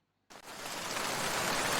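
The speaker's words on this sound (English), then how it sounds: "Go back to audio, go raindrops." A steady rain sound effect from Canva's audio library starts abruptly after a moment of silence. Dense pattering raindrops continue evenly to the end.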